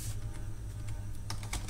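Quick keystrokes on a computer keyboard as a line of text is typed into an HTML paragraph, a few sharp clicks near the end over a low steady hum.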